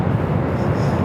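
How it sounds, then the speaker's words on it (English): Broad, steady jet engine roar at LAX from an airliner taking off on runway 24 left, loud and continuous with no talk over it. "runway 24 left, clear for takeoff. All right, here he comes."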